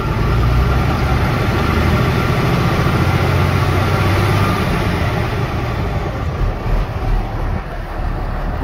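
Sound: Ford F-750 bucket truck engine idling at the exhaust

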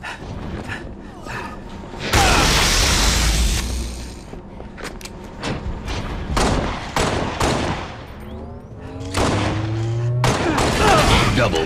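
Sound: shotgun fire in a zombie video game

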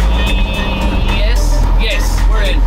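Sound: 1970 Ford D-Series truck engine shifting into fourth gear

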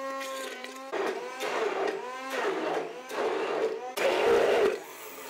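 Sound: blender mixing diced tomatoes

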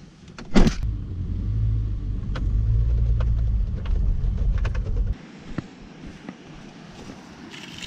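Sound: pickup truck driving

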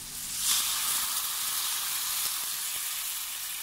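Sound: second coconut milk poured into hot pan for fish molee, sizzling

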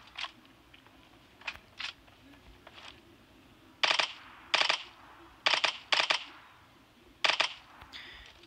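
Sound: gunfire from PUBG Mobile video game

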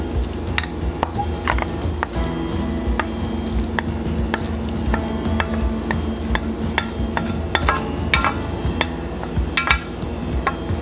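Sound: mixing macaroni salad with onion, peppers and mushroom

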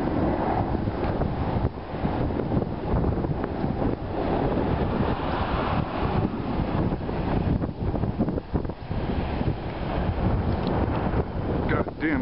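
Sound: strong wind blowing on the camera microphone

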